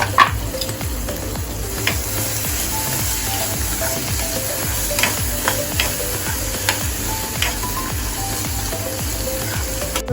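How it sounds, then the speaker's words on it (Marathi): Chopped bell pepper sizzles steadily in a hot pan for pasta, with a constant loud frying hiss broken by occasional stirring scrapes. "आता आपण शिमला मिरची टाकूया अशामध्ये"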